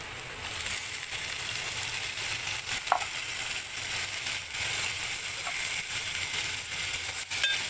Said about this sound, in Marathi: हे पहा, कांदा भाजलेला आहे। आता आपण टोमॅटो टाकून घेऊ।